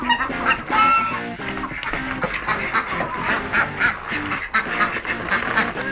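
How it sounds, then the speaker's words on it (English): A flock of farm ducks in Phuket quacks loudly and close by, a dense overlapping chorus of harsh, repeated calls that continues for several seconds. "Now the happy ducks can go for a swim."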